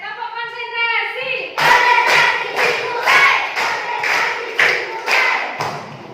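A class of children claps in a steady rhythm while chanting in unison, a sung opening followed by evenly spaced loud clap bursts under group voices.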